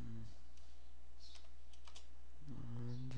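Light clicks of typing on a computer keyboard, a few scattered keystrokes, faint and fairly close, over low steady background hum.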